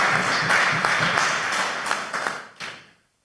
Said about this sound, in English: So please, a round of applause for Mr. Andre Duver.